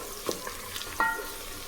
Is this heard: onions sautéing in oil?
yes